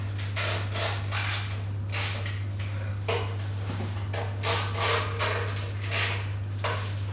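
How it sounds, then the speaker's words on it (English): A magnetic screwdriver turns screws into a computer case while an optical drive is being mounted, giving repeated close scraping and creaking bursts in uneven rhythm over a steady low electrical hum. "I'm using a magnetic screwdriver, so it's sticking to the side of the case"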